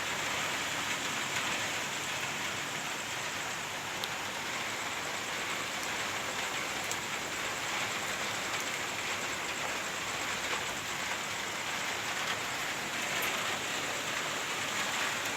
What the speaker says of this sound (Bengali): প্রচণ্ড ঝোড়ো হাওয়া দিচ্ছে আর বৃষ্টি পড়ছে